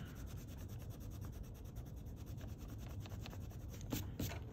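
Colored pencil burnishing on paper, a soft continuous rubbing scratch in quick back-and-forth strokes, faint and close, with two slightly sharper scrapes near the end.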